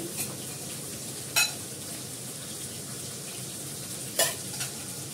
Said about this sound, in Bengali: এটাকে ভালো করে ভাজা ভাজা করে তার মশলা দেবো।